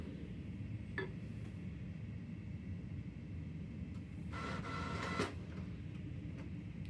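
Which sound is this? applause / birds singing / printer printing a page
printer printing a page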